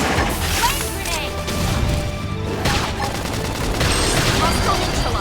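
Gunfire in the Xenoblade Chronicles X video game: dense bursts of rapid shots and impact crashes over game music and effects, with a voice speaking in between.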